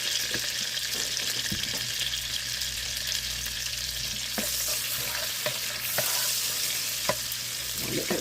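Garlic and butter sizzle in a hot pan, a steady, close frying hiss with occasional soft clicks of stirring and no talking.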